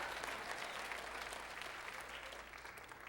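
Steady applause from a church congregation in a Chicago church, a dense wash of clapping that holds even and fairly distant throughout with no talk.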